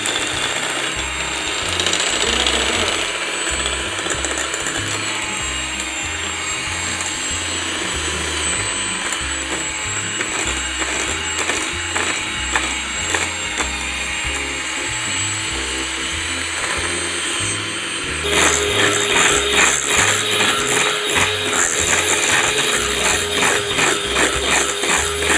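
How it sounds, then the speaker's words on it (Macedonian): An electric mixer beats butter as powdered sugar is added, a loud continuous motor whir with rattling and clicking that grows harsher and busier toward the end. "Ќе ставиме со миксер, ќе го изматам путерот и ќе додавам полека шекер во прав."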